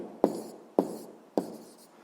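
A pen scratches out a physics calculation in three short, quiet strokes about half a second apart, each starting with a sharp tap and fading, close by and without talk.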